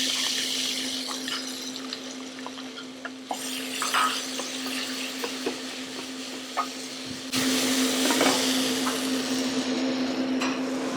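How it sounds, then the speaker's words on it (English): Onions sautéing with spices in a pan, a steady sizzling hiss under a constant low hum, with scattered taps and a louder surge of frying partway through. "I'm adding my onions."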